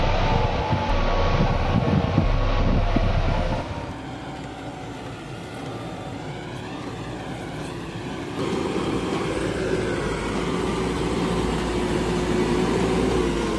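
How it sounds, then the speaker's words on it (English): A tractor with an engine over 90 horsepower pulls a plow through a field, a loud continuous diesel roar that shifts in pitch and load across its length. "The engine of more than 90 horsepower transmitted powerful force to the rear wheel."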